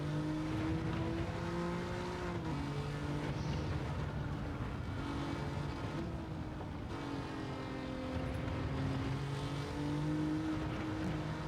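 An Alfa Romeo Giulia GTAm races at Le Mans in Gran Turismo 7, its engine droning loud and continuous with rising and falling pitch through gear changes and corners, without voices.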